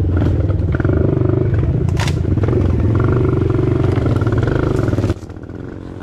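Trail motorcycles ride out along a muddy mountain trail at Kinapuin, a loud, close, continuous engine drone with rattling clatter that drops to a quieter idle near the end.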